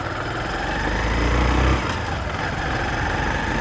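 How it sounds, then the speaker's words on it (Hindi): A motorcycle engine runs close by, a steady buzzing idle that swells briefly midway and then settles back to an even rumble, with no talking. "तो यहाँ पर मैं अपनी बाइक को शुरू कर देता हूँ।"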